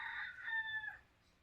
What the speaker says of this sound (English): And I just heard the rooster,